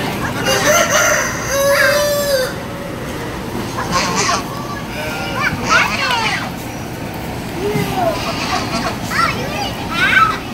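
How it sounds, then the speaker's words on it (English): A rooster at a fair crows in a long rising-and-falling call, with more clucking fowl around it, while children's voices and chatter carry on nearby and overlap the bird. "You hear that rooster?"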